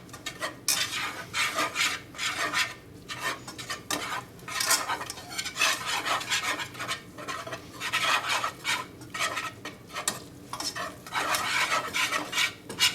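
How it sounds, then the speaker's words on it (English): A whisk scrapes and swirls flour around a pan for Salisbury steak gravy, a steady metallic rasping with rhythmic strokes close by, continuous and fairly loud, with no talking. "Now I'm just gonna whisk it around."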